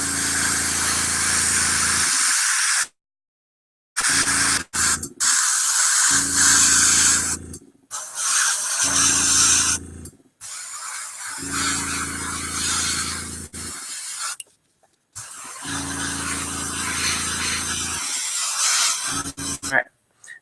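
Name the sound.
airbrush spraying paint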